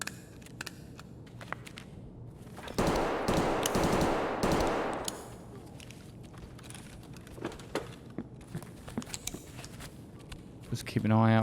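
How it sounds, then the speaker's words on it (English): AK rifle gunfire in Escape from Tarkov rips out as a dense automatic burst lasting a couple of seconds, followed by quieter scattered clicks and shuffles. "It sounds like an AK as well."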